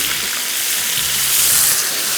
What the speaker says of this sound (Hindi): साथ में आ जाएगा 1 कप पानी